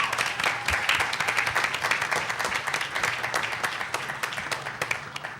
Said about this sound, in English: Round of applause for Jones.